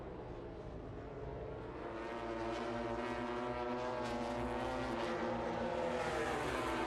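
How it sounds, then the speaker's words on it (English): A MotoGP racing motorcycle at the 2021 Portugal round revs out in the background, a sustained engine drone with dense harmonics that builds slightly and holds steady to the end. "So I've heard another bike go out in the background."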